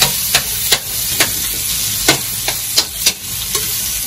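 Onion going into a pan of simmering adobong pusit (squid adobo), with a steady sizzle and several sharp scraping stir strokes spaced through it, close up and with no voices.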